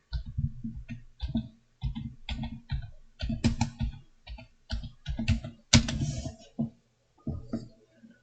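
Computer keyboard typing in short bursts of clicking keystrokes, close and fairly clear, with brief pauses between groups of keys.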